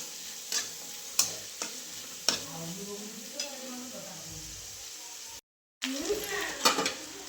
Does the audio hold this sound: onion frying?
yes